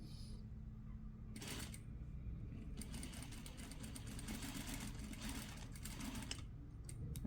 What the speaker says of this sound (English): I will baste at 1/4 of an inch seam allowance